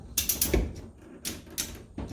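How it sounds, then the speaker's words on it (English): A ratchet strap is cranked tight on a Bedford CA ice cream van, giving a few sharp mechanical clicking bursts in an uneven rhythm, close and fairly loud, with no one speaking. "Tightening strap."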